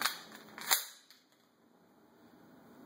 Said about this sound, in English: now magazine is inserted